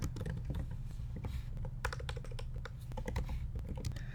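Steady, close typing on a computer keyboard, with quick irregular key clicks running throughout over a low background hum, while a username and email are entered into an app's sign-up form.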